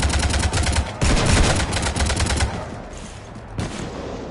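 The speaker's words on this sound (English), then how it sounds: "You want to stop shooting up my ship?" Rapid bursts of automatic gunfire rake a ship in Mass Effect 3, loud and dense for the first half, then thinning into scattered shots over a lingering rumble.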